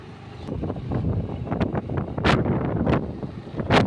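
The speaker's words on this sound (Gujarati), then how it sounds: "પવન બહુ છે, તમને સંભળાશે નહીં" Strong gusts buffet the microphone, producing loud rumbling roars and sharp blasts that rise and fall throughout.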